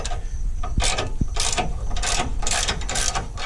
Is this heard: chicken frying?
no